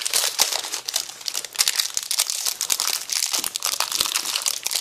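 Wrapper crinkles and crackles as an Ironmaxx Zenith low carb protein bar is unwrapped, a close, loud, continuous rustling with sharp crunchy bursts.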